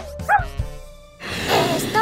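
A cartoon dog in an animated children's show lets out a few short, rising yelps and a brief howl up close, followed by a burst of noisy background sound.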